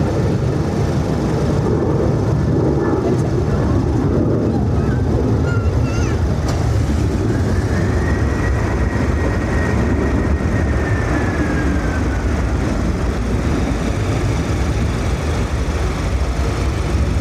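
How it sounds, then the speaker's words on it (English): A Ryanair airliner taking off from Dublin airport, a loud continuous low engine roar that rumbles steadily close by, with a faint rising whine partway through and nothing else breaking in. "something big behind me is actually just a Ryanair going out."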